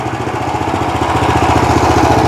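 A Motor Sich MB-13E walk-behind tractor engine runs steadily up close, a loud, continuous pulsing chug with an even rhythm and no voices over it.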